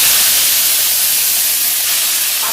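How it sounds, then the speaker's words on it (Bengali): Bottle gourd slices coated in turmeric and salt sizzle in hot oil, a steady, close, hissing fry with no break in the sound. "এখন একটু হলুদ আর লবণ মাখাইয়ে ভাজবো"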